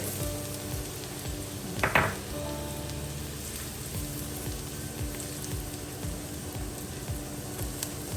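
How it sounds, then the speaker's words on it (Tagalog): Garlic toasting in a hot pan gives a steady, soft sizzle throughout, with a brief louder crackle near the start and faint clinks of stirring. "Medyo tutustay lang natin yung ating garlic bago tayo mag-add ng ating sibuyas"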